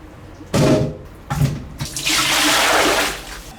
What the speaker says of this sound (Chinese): 再冲洗一下